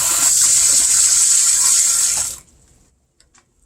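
Water runs hard and close from a kitchen faucet sprayer into a sink, a steady bright rush for about two seconds. It shuts off abruptly and a few faint drips follow.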